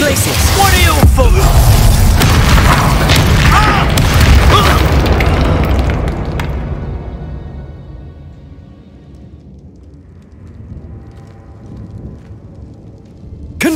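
Bombarda spell blasts in the Hogwarts Legacy video game, a loud booming explosion with crackling debris over the first six seconds, then fading into a quieter rumbling tail.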